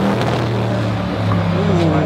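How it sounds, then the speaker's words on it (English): Cars drive by on a street in a steady, loud wash of engine and tyre noise with a low hum, continuous for the whole moment. "Ooh, nice cars."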